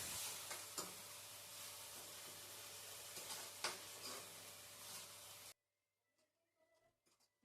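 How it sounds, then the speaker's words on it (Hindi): Sliced onions fry and get stirred in a hot tempering for kadhi, a steady close sizzle with scraping stir strokes for about five seconds before it cuts out to near silence. "थोड़ी देर फ्राई कर दूँगी, थोड़ी देर तड़के के साथ इनको भी घुमा दूँगी"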